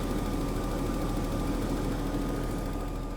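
An old Jaguar engine idles roughly and unevenly with a steady, shaking low drone and a faint whine, close and continuous with no pauses.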